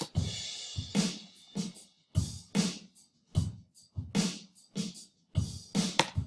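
A dry drum pattern plays alone, punchy kick and snare hits with crisp cymbal and hi-hat strikes in a steady groove.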